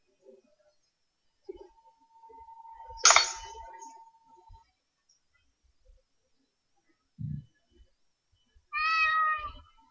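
A cat meows in the Ao Oni horror game, a brief harmonic call heard near the end after scattered clicks and a short thump, moderately loud and without talk.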